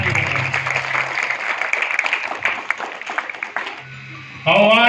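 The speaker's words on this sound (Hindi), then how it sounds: "इसके लिए जोरदार ताली बजाएं।" An audience at a Gandhi Jayanti celebration claps steadily for about four seconds, the sound thinning toward the end as a voice comes in over a loudspeaker.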